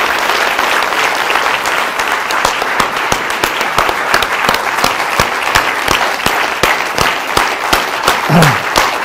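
Sustained applause from a lecture audience at the end of a motivational talk, dense rhythmic clapping filling the room at steady loudness for the whole stretch, with no talking over it.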